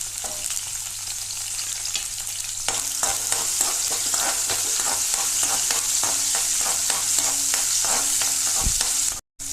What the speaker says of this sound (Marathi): तेल बरें तापले, आतां भितर लसूण घालप